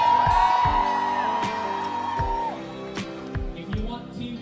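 A live audience at a Filipino variety show shouts and whoops in support of Team A, a loud mix of yells over beating music, with a sung note and the cheering tapering off toward the end.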